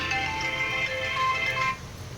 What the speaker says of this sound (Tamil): இந்த பக்கம் பார்த்தீங்கன்னா நம்ம சின்ராசு ஃபோன் பண்ணுறாரு வீடியோ கால்.